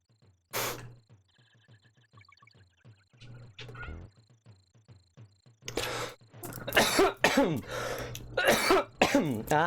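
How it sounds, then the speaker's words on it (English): A person coughs and clears their throat several times during a Donkey Kong Country play session, with small game sounds in the background, and then talks over the last part. "Just coughing."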